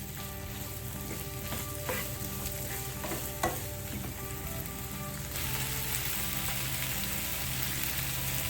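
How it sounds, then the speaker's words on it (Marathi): Vegetables including chilli and tomato sauté in a pan, giving a steady soft sizzle like light rain with scattered clicks of stirring, and the hiss grows a little brighter partway through. No one speaks. "या भाज्या थोड्याशा परतून घ्यायच्या आहेत"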